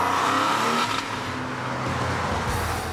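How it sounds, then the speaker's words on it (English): A Porsche 911 convertible engine runs loudly and close while driving, a steady rumbling roar that shifts briefly in tone partway through. "I'm out in a Porsche 911 convertible."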